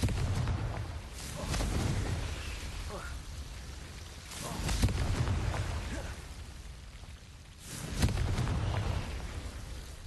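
Confringo spell explosions go off in the video game Hogwarts Legacy. Four or five rumbling blasts swell and fade at intervals of a few seconds, each trailing a crackling, rain-like debris wash.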